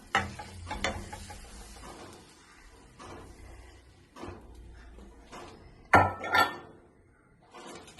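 Egg batter mixed with pepper, chilli flakes and milk goes into a hot pan, with clinks and scrapes of cookware, a faint sizzle underneath, and a few sharp knocks breaking the quieter moments.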